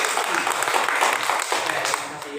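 Classroom applause from students clapping after a group presentation, a dense burst of claps lasting a couple of seconds and fading slightly at the end, with some voices mixed in.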